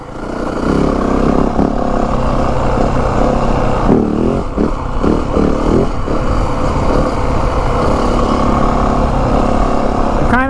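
A 2025 Yamaha WR 450F dirt bike engine roars loud and close on a test ride, holding a steady growl with shifting revs and rattling clatter from the ride, then a rising note at the end.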